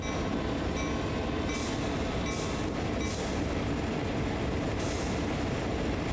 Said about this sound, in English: the train is trying to slow down, but it's not working